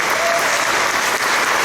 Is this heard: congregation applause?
yes